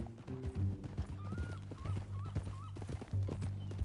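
Horse hooves clip-clop at a steady walking rhythm in Red Dead Redemption 2, up close and fairly loud, with a short whinny-like tone and game ambience around them.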